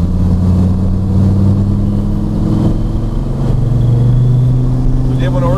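A 2013 SRT Viper engine roars steadily on a race track with a low droning growl, close by, while a person talks over it.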